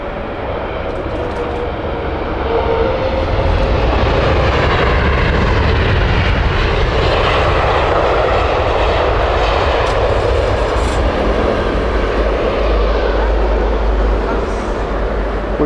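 A Saudia Boeing 777-300 on its Riyadh flight taxis at Heathrow Airport with a loud, sustained jet engine roar that swells and holds steady throughout, with a voice talking over it.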